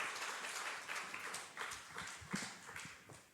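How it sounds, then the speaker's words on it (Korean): Congregational applause in a church service, a dense wash of clapping held steady throughout, fairly distant and moderately quiet. "큰 박수 해주시기 바랍니다"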